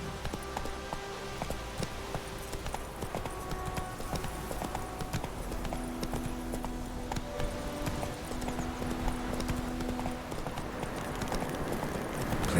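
Horse hooves clip-clop steadily in The Witcher 3, an even rhythmic beat under game music and ambience that continues throughout.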